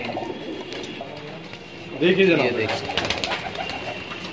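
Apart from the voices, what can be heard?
Rampuri pigeons cooing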